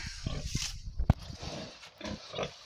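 Pigs grunt and snort in a farm shed, a few short close grunts scattered irregularly with faint rustling around them.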